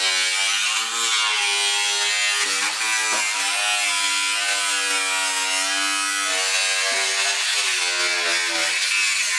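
Loud, steady whine of a power tool cutting vent holes into a Toyota GR Yaris bonnet, running continuously for the whole stretch with slight pitch dips as the blade bites into the panel.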